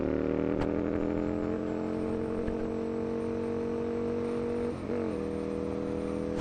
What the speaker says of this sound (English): Let's go off-roading with the RSV.